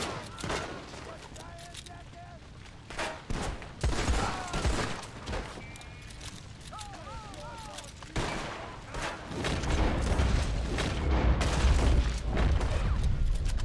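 Gunfire aimed at the player in the Red Dead Redemption video game: sharp, loud shots and bursts cracking out irregularly across the scene, growing into a heavier barrage toward the end, with someone talking over it.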